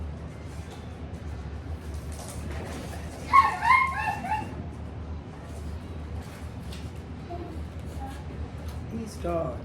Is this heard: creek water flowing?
no